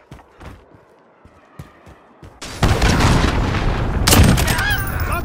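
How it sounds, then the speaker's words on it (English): In a video game, a cruise missile launches, then a loud close blast and rumbling explosions follow, with faint scattered shots and clicks before them. "Cruise missile launched."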